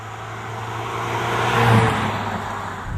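A Mercedes-Benz C180 with a 1.8 litre engine accelerates, its steady engine drone building to a peak around the middle before easing slightly, heard close and continuous with no talk.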